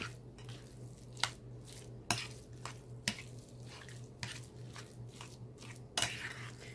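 Guacamole stirred in a bowl with a utensil during taco-night dinner prep, wet squishy mashing and a string of sharp clinks against the bowl over a low steady hum.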